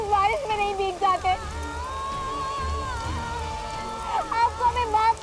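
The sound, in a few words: rain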